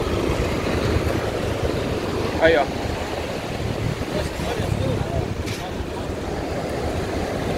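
Surf at Balneário Camboriú beach on a weekday, with water washing almost directly against the eroded sand. It makes a steady broadband rush under gusty wind noise while someone talks nearby.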